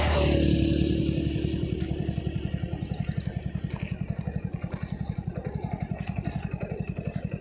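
A Hero Splendor Plus motorcycle engine turns over in first gear with a steady, rapid thumping beat, close and moderately loud, after a brief louder start.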